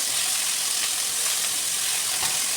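Tomatoes sautéing in a hot pan for a South Indian kuzhambu, a steady close, even sizzle and frying hiss throughout with faint soft stirring ticks, no voices.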